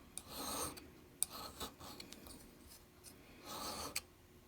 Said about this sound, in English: So I want to use a file first for most of the way.